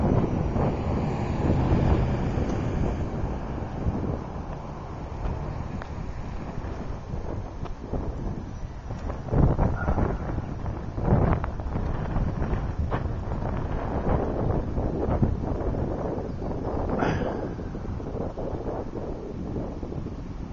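Loud, steady wind buffeting a microphone outdoors during a test flight of an HTC Lite RC airplane, with gusty rumble throughout and a few harder gust bursts, no talk.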